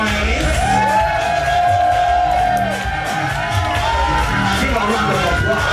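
A crowd cheering and whooping at a vogue ball, loud, dense and continuous, with shouts and yells rising over the roar and pitched voices sweeping through it.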